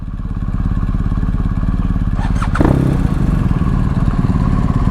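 A motorcycle fitted with an Akrapovic exhaust idles close by, a loud steady low rumble with a brief higher clatter partway through and no talking over it.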